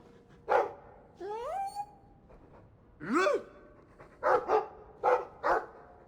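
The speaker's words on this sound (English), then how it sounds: "I like the doggy." A dog in the video game Dragon Age 2 barks and yips several times in short, separated bursts with rising whine-like tones, fairly quiet against a near-silent background.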